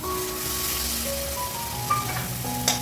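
Ginger, cumin, tomato and green chilli paste frying in masala, giving a steady hiss of sizzling with a couple of soft clicks near the end, while faint tonal music plays underneath.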